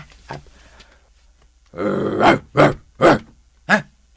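Police dog growling then giving several loud, close barks in quick succession, with a short guttural growl run leading into four sharp bursts.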